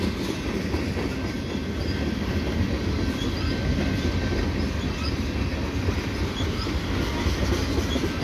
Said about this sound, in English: So this train might be the CSX train that's heading usually to Syracuse, New York, via the bridge at Valleyfeild.